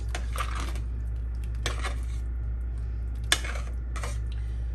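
A spoon clinks and scrapes against a pot while West African groundnut stew is stirred. A few sharp metallic knocks come at spaced intervals over a low, steady background hum.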